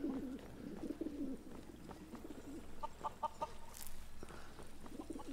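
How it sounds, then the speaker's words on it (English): A mallard duck from a Skyrim mod calls in soft repeated bursts, faint and a little distant, over quiet game ambience. "It's a mallard duck. That's one of Mihail's little mods."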